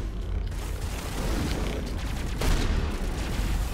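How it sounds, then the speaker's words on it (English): Sustained gunfire from a firefight in Mass Effect Legendary Edition, a steady low-level wash of shots and booms with a slight swell partway through. "Oh, you already started shooting, huh?"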